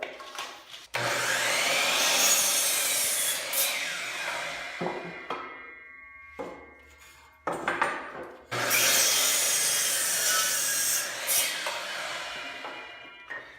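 A power saw cuts through wood boards for shelves in two long, loud passes, with quieter pauses and brief clatter between cuts.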